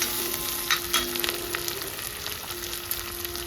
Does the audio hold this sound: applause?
no